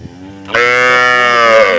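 A young calf about 15-16 days old lets out one loud, close, drawn-out moo that starts abruptly and holds a strong harmonic tone to the end.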